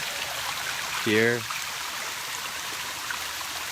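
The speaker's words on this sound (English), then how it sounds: "There's a beautiful waterfall" A waterfall and river rush outdoors in a natural setting, making a steady broadband roar that fills the whole stretch, with one brief spoken word partway through.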